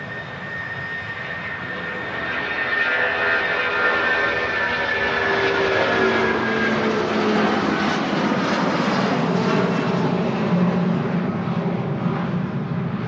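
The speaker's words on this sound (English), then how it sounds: "Iceland Air 757 heading to Reykjavik." An Icelandair Boeing 757 jet rolls for takeoff at Manchester Airport, its engines a loud, steady broadband roar that swells and holds throughout, heard from a distance with no talking.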